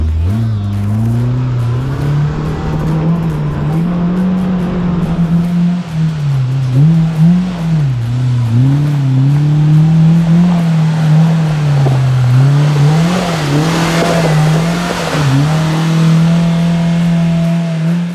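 A 2022 Polaris RZR Pro R 4 UTV engine in sport mode drones loud and close, its pitch rising and dipping repeatedly as the throttle is worked.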